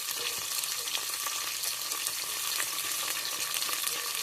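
Oil frying steadily for Telugu bagara rice made with basmati, a dense continuous sizzle with crackle throughout, close and fairly loud, no voices.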